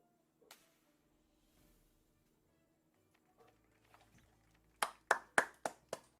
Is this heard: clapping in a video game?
yes